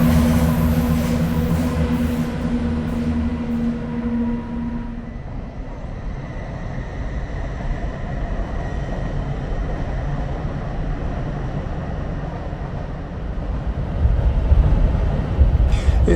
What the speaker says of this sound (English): So I'll just have to stay here and watch the trains come into Peterborough station.